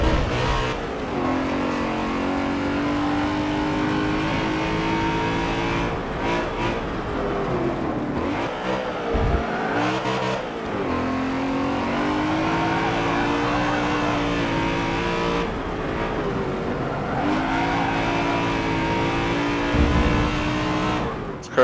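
A race car engine driven in Forza Motorsport 7, a loud continuous roar that rises and falls as it revs up through gears and drops on shifts, with brief dips and steady engine drone throughout.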